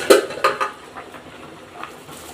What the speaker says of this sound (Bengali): ঢাকনাটা এখন উঠিয়ে দিচ্ছি।